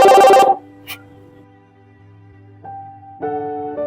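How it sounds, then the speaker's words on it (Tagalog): A cellphone rings loudly with a short electronic ringtone burst, then drops to quiet before steady tones return and swell near the end. "Ba't tumutunog yung cellphone?"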